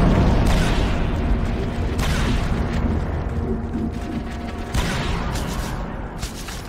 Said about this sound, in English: I hear machinery below.